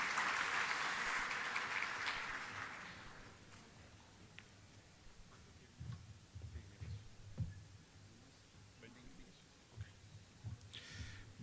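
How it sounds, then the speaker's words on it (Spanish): An audience at a national cooperative congress applauds to welcome speaker Héctor Riveros; the clapping is dense at first, then fades out within a few seconds, leaving quiet room sound with soft knocks. "Le damos una bienvenida y lo saludamos con un aplauso"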